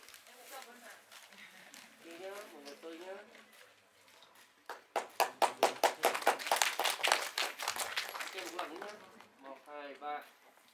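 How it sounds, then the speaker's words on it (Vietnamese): An audience at a Vietnamese music video launch event breaks into a burst of loud, dense applause that swells and then fades, with a voice speaking before and after it. "Một tràng pháo tay thật lớn được không ạ?"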